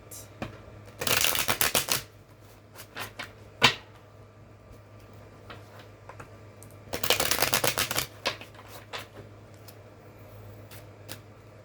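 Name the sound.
shuffling and pulling oracle cards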